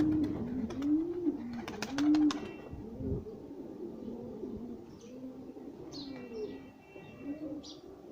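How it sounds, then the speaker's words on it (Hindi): Pigeons at a village pigeon house coo in repeated soft, rolling low calls, several overlapping close by, with a few faint chirps from other birds in the background. "हीअ कबूतरनि जो घर ठहियलु आहे।"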